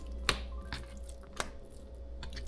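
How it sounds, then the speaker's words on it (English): A knife chopping food on a cutting board, a few sparse sharp taps spaced irregularly, fairly close but soft against a quiet room hum. "let's get to chopping"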